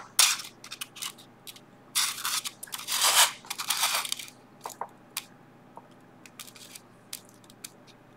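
Scissors cutting through paper while making a Christmas pirate boat craft, several close crisp crunching snips in two bursts followed by sparse small taps and handling noises, quiet background, no speech.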